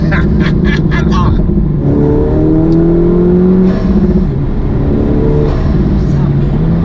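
A Honda Civic Type R FK2 with VTEC and a turbocharged engine revs loudly up the range, its pitch climbing and holding close by, with voices talking over the start.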